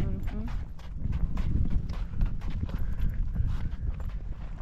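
Horse trotting in Snow Canyon State Park, Utah, with steady rhythmic hoof clops close by under continuous conversation.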